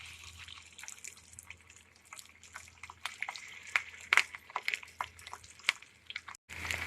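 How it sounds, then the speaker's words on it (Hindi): Beef seekh kebabs fry in hot oil in a pan over a medium flame, giving a steady close crackle with irregular sharp pops and sputters that grow busier toward the end, with no talking. "अब इसके अंदर एक एक करके कबाब रखूंगी और"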